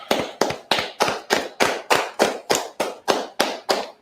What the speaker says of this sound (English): let's go ahead and clap that up.